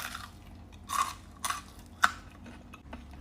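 Teeth bite into a crispy battered fried chicken drumstick, giving a few soft, close crunches separated by quiet pauses, with no talking.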